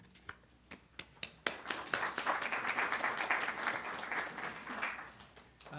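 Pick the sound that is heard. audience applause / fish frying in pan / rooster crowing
audience applause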